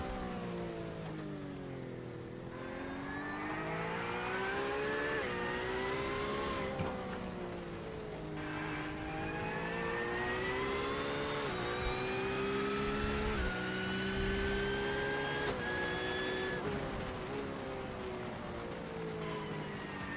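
An onboard race car engine lapping Hockenheim in the TORQ Sports Car Series sim-racing game: a loud, continuous engine note climbing and dropping repeatedly through gear changes over about twenty seconds, with no talk.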